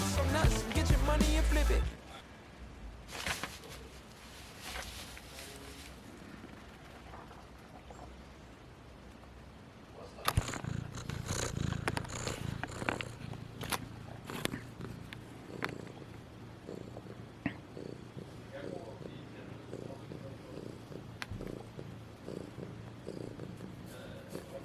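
A domestic cat purrs close by, loudest in the first two seconds, then a softer steady rumble continues under faint rustling and scattered clicks, with no speech.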